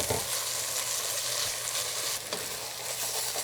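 Scrambled eggs with onion and spinach sizzle and fry steadily in a pan for Persian nargesi, a constant close crackle with a few stirring scrapes.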